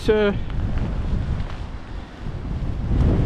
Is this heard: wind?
yes